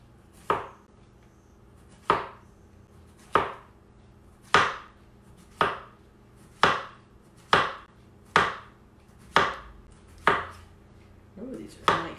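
A kitchen knife chops food into small cubes on a cutting board in a home kitchen, about ten crisp, evenly spaced chops ringing out close and clear, with no talk over them.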